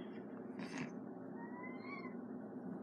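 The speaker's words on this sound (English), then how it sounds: "My cat is sad." A sad-sounding cat gives a single drawn-out meow, close and fairly quiet, followed by a softer rising cry, with no talking.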